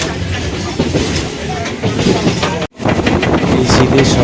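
Hasnabad local train from Sealdah, a loud continuous rumble of a moving suburban train with rattling carriages and clattering wheels, voices mixed in, and a brief dropout near the middle.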